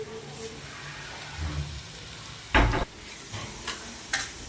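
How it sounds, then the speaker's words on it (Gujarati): Onions roasting and sizzling in a pan for a sev and onion curry, a soft steady hiss broken by a few louder clattering bursts, with no voices. "ડુંગળી શેકાવા મૂકી દીધી, સેવ ચાણ નાખવાનું"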